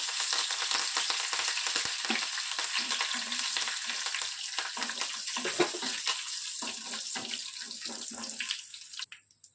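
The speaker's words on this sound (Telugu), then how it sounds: "ఆయిల్ బాగా హీట్ అయిన తర్వాత మనం కొన్ని పోపు గింజలను వేసేసుకోవాలి. అలాగే ఫ్రెష్ కరివేపాకును వేసేసుకుంటున్నాను." Mustard and other tempering seeds with fresh curry leaves fry in hot oil for an Andhra coriander chutney, giving a close, steady crackling sizzle with sharp spits and pops throughout, and no talking.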